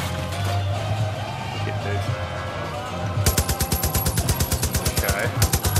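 Gunfire in the video game Far Cry New Dawn: scattered shots over a busy background, then from midway a loud, rapid automatic burst of evenly spaced shots rattling on to the end.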